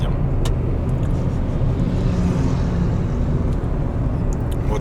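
A car drives along a road between Dzhubga and Nebug near the sea, giving a steady, close engine and tyre rumble with constant road noise throughout.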